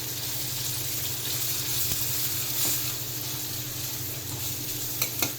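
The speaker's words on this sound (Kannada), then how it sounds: "ಇವಾಗ ಇದೆಲ್ಲ ನೀಟಾಗಿ ಫ್ರೈ ಆಗಲಿ" Slit green chillies sizzle in hot oil in a pan as the tempering for dhaba-style jeera rice cooks, a steady close crackle with a low background hum and a couple of light stirring knocks near the end.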